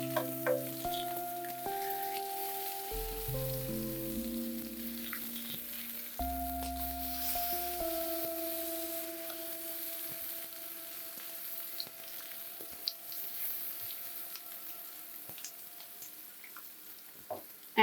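Tofu fries in a pan with a steady, soft sizzle that runs the whole time beneath louder background music.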